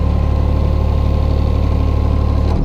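A Thwaites 1T mini dumper engine idles loudly and steadily up close, a continuous low throbbing rumble that cuts off abruptly near the end.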